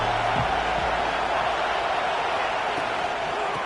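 A stadium crowd at an Alabama versus Texas college football game keeps up a dense, steady roar, loud and unbroken throughout, with a brief low thump near the start.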